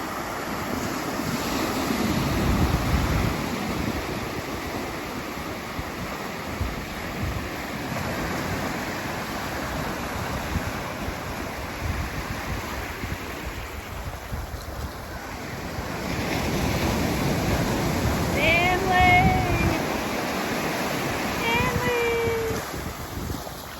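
Ocean waves wash and surge continuously under gusting wind buffeting the microphone, swelling louder near the end, with a few faint high bird-like chirps late on.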